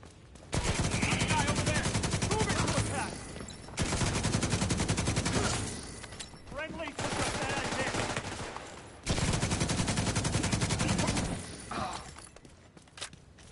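Sustained bursts from a light machine gun in a shooter game, several long continuous strings of rapid automatic fire separated by short pauses, loud and close with a faint voice under it.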